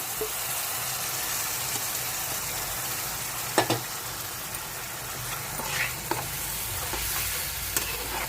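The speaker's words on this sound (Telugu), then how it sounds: "వేగిపోవాలండి ఇది కూడా పచ్చివాసన పోయే వరకుని" Potato gravy with yogurt, chili powder and turmeric frying in oil, giving a dense steady sizzle with occasional stirring scrapes and clinks, close and continuous with no voices.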